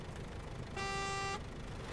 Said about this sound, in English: Love the honk sound effects.